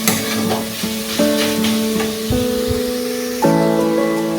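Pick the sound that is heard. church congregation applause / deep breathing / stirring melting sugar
stirring melting sugar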